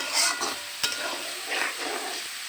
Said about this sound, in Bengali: তেলের মধ্যে আমি সিমের বিচিটা একটু হালকা করে ভেজে নিচ্ছি